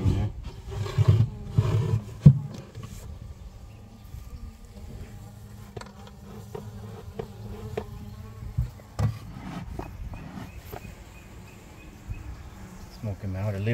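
Honeybees in an opened, struggling backyard hive with leftover feed hum in a steady close buzz, joined by low rumbling and occasional knocks from handling the hive frames.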